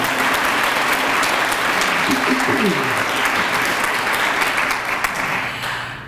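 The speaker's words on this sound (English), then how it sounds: "So let's give a nice round of applause for them." Sustained applause from an audience at an annual awards dinner, dense steady clapping that fills the room, continues without a break and tapers slightly at the end.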